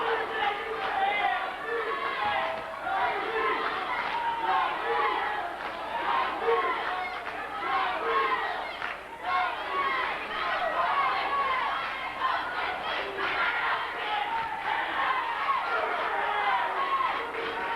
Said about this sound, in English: You've got Kung Lee supporters cheering, and then you've got Jason supporters cheering.